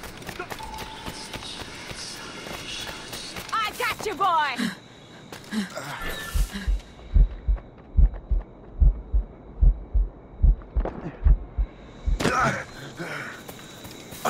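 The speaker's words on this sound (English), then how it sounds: "Moving keeps my heart beating." Slow, heavy heartbeat thuds in Assassin's Creed Rogue as the character is poisoned, the low pulses repeating steadily in the second half beneath game music, ambience and a voice.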